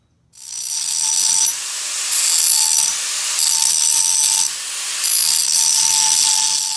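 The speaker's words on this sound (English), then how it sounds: "you're going to want to get your grinder and start grinding on the shape" Angle grinder shaping a forged steel throwing star: a loud, high-pitched whine that pulses steadily as the disc presses into the metal and eases off in turn.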